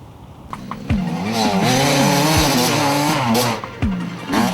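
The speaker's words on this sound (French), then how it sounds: "nous avons essayé les machines avec leur pot compétition joint à la livraison" Gasgas 2006 enduro two-stroke motorcycles with competition exhaust rev hard nearby, the engine note rising and falling through gear changes in a loud, raspy, continuous drone.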